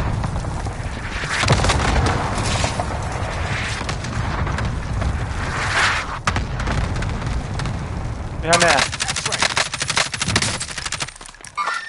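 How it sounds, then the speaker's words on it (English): Rumbling cluster strike explosions and scattered gunfire in Call of Duty Warzone: booms and crackling blasts roll on almost continuously, then a sharper volley of bursts follows, with a voice talking over parts of it. "cluster strike, inbound"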